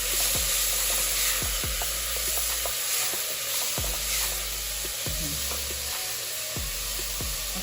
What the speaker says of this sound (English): I'm gonna give that a stir.